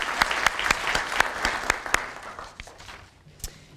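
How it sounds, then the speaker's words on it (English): Applause at a police department awards ceremony, a small audience clapping with a few sharp, distinct claps standing out near the listener, dying down to sparse last claps. "We give a round of applause."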